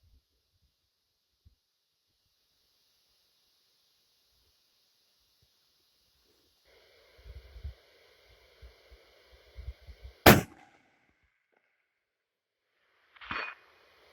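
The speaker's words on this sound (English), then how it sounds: "second shot, steel plate" A Kimber Hunter Pro fires a single sharp, loud crack that hits a steel plate, followed a few seconds later by a fainter metallic impact, heard outdoors at a distance over a low breezy hiss and scattered small thumps.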